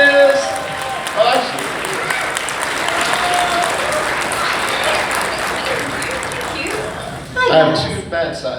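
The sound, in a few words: audience applause at fan festival panel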